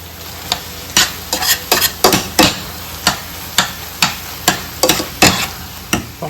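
Mashed banana mixture with brown sugar stirred in a pan, regular loud scraping and tapping strokes about twice a second over a faint sizzle, close and alone.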